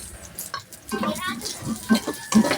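Onion tossed into a pan of browned garlic, with soft sizzling and stirring scrapes under a voice talking nearby.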